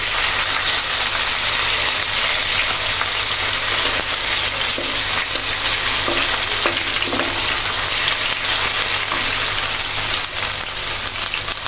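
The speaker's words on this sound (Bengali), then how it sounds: "আদা রসুন বাটাটা আমি তেলের সাথে একটু ভেজে নিই" Ginger garlic paste fries in hot oil, giving a loud, steady sizzle that holds without pause for the whole stretch, with faint stirring scrapes now and then and no voices.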